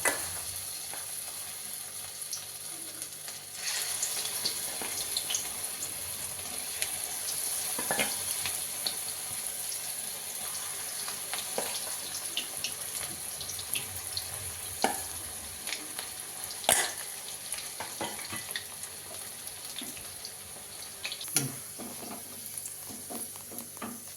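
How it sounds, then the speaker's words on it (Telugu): Cauliflower pieces deep frying in hot oil in a kadai, giving a steady crackling sizzle throughout with occasional sharper pops and a few clinks from stirring, moderately close and with no talking. "డీప్ ఫ్రై చేయాలి ఇప్పుడు వాటిని ఆయిల్ బాగా హీట్ అయిన తర్వాత ఇది అందులో వేసేసుకోవాలి"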